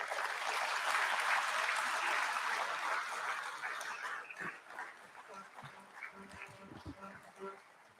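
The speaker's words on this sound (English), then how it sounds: "Big round of applause." Audience applause at an IPO bell ringing ceremony, dense clapping that holds strong for about four seconds and then thins into scattered claps and murmuring voices.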